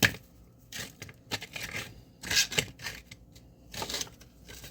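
A sharp knife chops frozen salt pork on a cutting board in a home kitchen, giving a series of irregular, close crisp knocks with quiet gaps between them.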